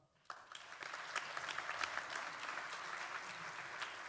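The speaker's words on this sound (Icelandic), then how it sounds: "Gefum honum gott klapp." Conference audience at the opening of Iceland's national assembly of local authorities gives sustained applause, many hands clapping together in a full, even wash heard from within the hall.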